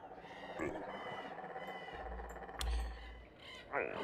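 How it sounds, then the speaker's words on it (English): Frog croaks from the fantasy game Everquest Legends, a few low guttural calls sounding amid busy game music and effects, with a voice speaking over parts of the clip. "So many named froggies out here."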